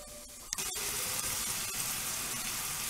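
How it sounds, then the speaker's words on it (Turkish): Cubed beef sizzles steadily in a pan as pide filling, a constant hissing, bubbling fry with a few faint clinks, moderately quiet and without talk. "Suyunu çekene kadar bu şekilde pişireceğim arkadaşlar"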